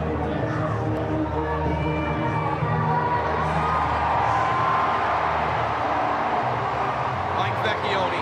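A Hershey Bears hockey crowd at an AHL final game roars and cheers steadily and loudly the whole time, with a commentator's voice talking over the noise.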